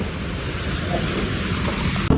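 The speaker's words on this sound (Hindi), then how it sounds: "अभी बारिश होने लग गई रास्ते में" Rain falling on a street during a ride, a steady broadband hiss that fills the clip at close range, with a brief knock near the end and no talking.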